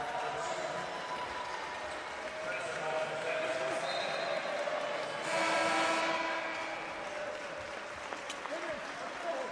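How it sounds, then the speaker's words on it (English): Howard fans seated behind the team bench applaud at a Niagara versus Howard college basketball game, a soft, distant patter of clapping beneath a commentator's ongoing talk in a reverberant gym. "the Howard fans that have made the trip behind the bench applauding the effort of the Bison"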